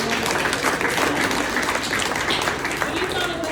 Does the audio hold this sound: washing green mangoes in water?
no